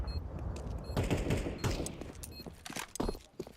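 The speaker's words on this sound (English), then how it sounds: "Another shot from Shiro." Gunfire in a Counter-Strike 2 esports match between Team Spirit and an opponent comes in rapid, uneven bursts of sharp shots and thuds, loud and close, with no voices.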